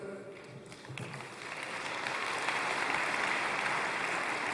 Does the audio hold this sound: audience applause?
yes